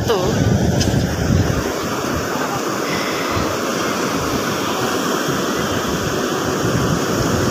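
Sea waves wash onto a beach in the evening, with a steady roar of surf and wind buffeting the microphone, loud and continuous, and a voice faintly present.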